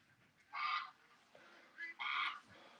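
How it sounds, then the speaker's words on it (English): Ducks climbing out of the water on a windy day give two loud nasal honking quacks, separated by quieter soft calls, close and without speech. "Look at the ducks getting out."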